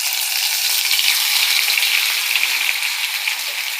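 A loud, continuous crackling sizzle as a ground paste of pirandai, ajwain, garlic, ginger and pepper fries in hot oil for a homemade joint-pain oil; close and unbroken, with no talk.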